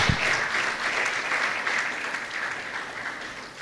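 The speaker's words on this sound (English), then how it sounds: "A round of applause for him, please." Conference audience clapping in a sustained, dense round of applause that stays strong throughout, with a sharp single clap standing out at the start.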